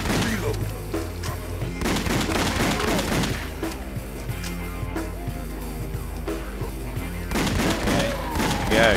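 Pistol gunfire in House of the Dead Overkill, rapid bursts of close shots in clusters at the start and end, mixed with game effects and someone commenting.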